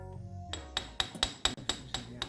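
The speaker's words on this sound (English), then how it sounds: "knock the CV joint out with a hammer" Sharp metallic hammer strikes knocking out an Alfa Romeo CV joint, about eight blows in a quick uneven rhythm, ringing close by after a brief mechanical hum.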